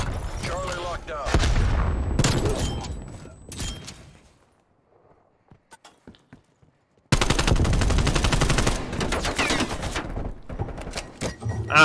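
Rapid automatic gunfire from the Black Ops Cold War video game roars in loud, dense bursts, falls to near silence for a few seconds, then resumes as sustained heavy fire.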